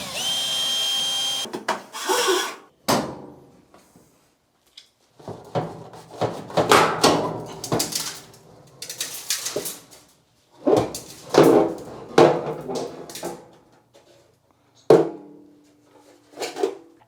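Screws being removed and the lint screen housing pulled out of a Whirlpool or Kenmore clothes dryer, giving scattered clattering bursts, scrapes and knocks of metal and plastic at close range, with pauses between them.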